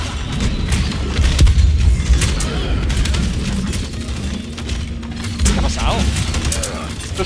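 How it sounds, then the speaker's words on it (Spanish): Explosions and rapid gunfire from the Paladins shooter game crackle in dense, overlapping bursts throughout, with booms and sharp shots layered under a busy mix of game effects. "Hay explosiones, disparos, muertos."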